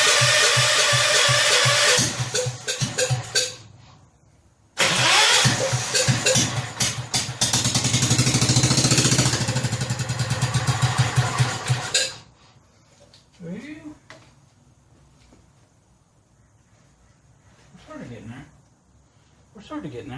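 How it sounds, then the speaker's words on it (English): A rebuilt Kohler K241 engine on a John Deere 210 garden tractor runs loudly in two bursts with a brief break between them, then cuts out to quiet background with faint movement. "So you've heard it run."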